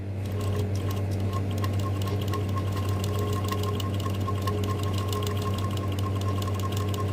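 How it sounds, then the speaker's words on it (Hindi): Electric sewing machine stitching fabric: a steady, close mechanical whir with a fast, regular rhythmic clatter of the needle, running continuously and alone throughout. "आपको मशीन को रोक के धीरे धीरे सिलाई लगानी है"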